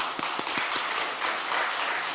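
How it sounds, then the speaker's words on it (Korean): A church congregation clapping together during a Korean sermon, a dense steady patter of hands with a few louder individual claps near the start. "우리 박수."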